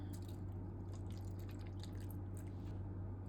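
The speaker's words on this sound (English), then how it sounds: "I'm going to pour in just a little bit of red wine." Red wine poured into beef broth in a pot: faint dripping and trickling liquid over a loud steady hum, with no voices.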